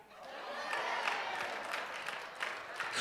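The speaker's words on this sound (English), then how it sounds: "Ooh, y'all clapping." A church congregation at a Sunday worship service claps, a faint, distant patter of hands in a large room that swells slightly and carries on briefly, with no clear speech over it.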